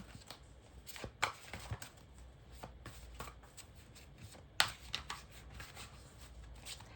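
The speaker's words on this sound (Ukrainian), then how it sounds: "Я зараз хочу дістати три карти" Tarot cards being shuffled and drawn, with soft irregular flicks and slaps close by, a few sharper snaps standing out in a quiet room.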